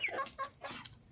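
Backyard hens give a short run of soft, close clucks, several quick notes in a row at low volume.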